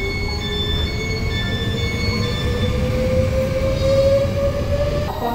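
At a Swiss railway station a train rolls in close by, its wheels squealing in a long rising whine over a steady low rumble.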